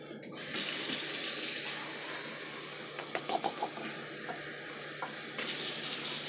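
A tap runs steadily into a pot, filling it with water for cooking rice: a constant rushing hiss with a few clinks partway through.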